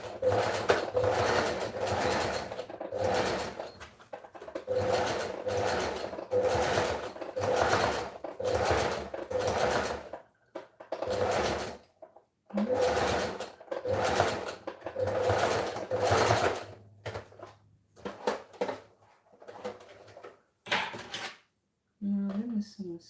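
A sewing machine stitching fabric in a home craft setting, running in repeated bursts of rapid mechanical clatter separated by short pauses, fairly close and moderately loud, with a brief clink near the end.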